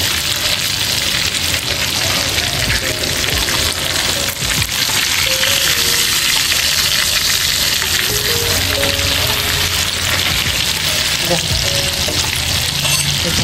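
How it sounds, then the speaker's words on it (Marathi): Stuffed bangda (mackerel) fish frying in a pan, a loud, steady sizzle and crackle of hot oil that runs unbroken throughout, with occasional soft scraping as the fish settle. "दोन्ही बांगड्यांना व्यवस्थित फ्राय होऊ दे"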